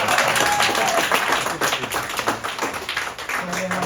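A comedy club audience claps and applauds steadily, a dense patter of hands that carries throughout alongside room chatter.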